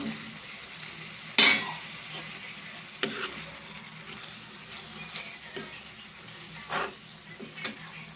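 Boiled potato pieces are gently stirred into a spicy tomato curry in a pan, giving a soft steady sizzle with a few sharp clinks and scrapes of the spoon against the pan at irregular intervals.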